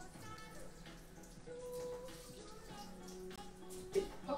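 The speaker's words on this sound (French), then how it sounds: "je vais passer un couteau sous l'eau chaude" A knife is held under hot running tap water in a kitchen while making a chocolate-raspberry yule log, a steady faucet stream splashing continuously at moderate level, with a brief louder splash near the end.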